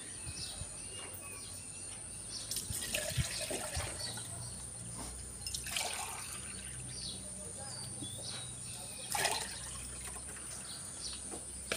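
Water splashes into a 500 ml measuring container in a few short bursts, against a steady outdoor backdrop of chirping insects and occasional birdsong on a farm.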